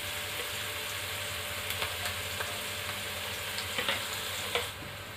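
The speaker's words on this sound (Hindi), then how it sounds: "भिंडी को हम फ्राई कर लेंगे।" Okra fries in hot oil with asafoetida and onion, a steady close sizzle with occasional soft stirring taps and pops, heard alone.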